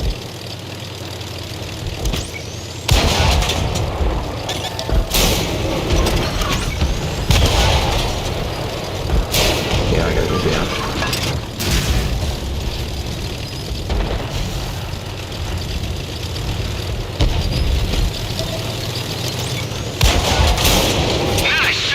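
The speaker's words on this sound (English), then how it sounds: "try to take out this artillery that keeps shooting at us" Artillery keeps firing in a video game, a recurring series of heavy booms and bursts of gunfire spaced every few seconds over a constant engine-like rumble across a long stretch.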